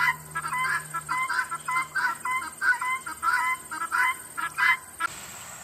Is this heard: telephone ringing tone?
no